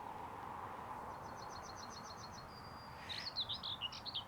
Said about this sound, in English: There's two birds you can hear there. One, that classic little bit of bread and no cheese, is a yellowhammer.